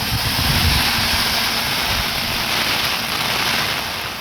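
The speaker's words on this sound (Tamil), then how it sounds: "திடீரென 1 மணி நேரத்திற்கும் மேலாக கனமழை வெளுத்து வாங்கியது" Heavy rain pouring down in Dindigul, Tamil Nadu, a dense, loud, steady hiss with a low rumble underneath, continuous and without voices.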